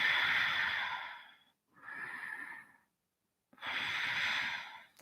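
Slow, audible yoga breaths during bridge pose, a long exhale, a softer breath, then another long exhale, separated by short silences, close and quiet with no talking.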